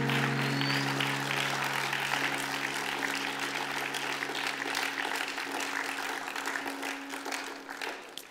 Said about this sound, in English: let's give another round of applause to the Lord